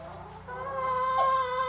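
Chickens cluck on a farm with about 150 hens and a rooster, a steady close chorus of overlapping clucks and calls.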